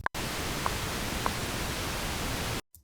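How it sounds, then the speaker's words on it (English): A synthesized pink noise sample bounced in a music production session: a sudden, steady broadband hiss that holds at a constant level for about two and a half seconds, then cuts off abruptly. "This is PCM and this is pink noise."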